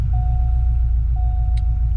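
A Subaru Impreza Outback Sport GF8 with a small engine idles with a loud, steady low rumble close by, and a faint thin whine sits above it.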